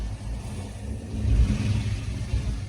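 A cammed Chevy S10 pickup with a 5.3 V8 runs down a drag strip, its engine a loud, steady low rumble that swells briefly in the middle of the pass, with no voices.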